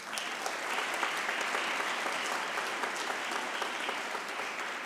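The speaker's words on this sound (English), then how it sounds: "So please give them a round of applause again" An audience at a graduation ceremony for executive degree programs applauds the staff: steady, sustained clapping from a large crowd, even in loudness throughout, with no voices above it.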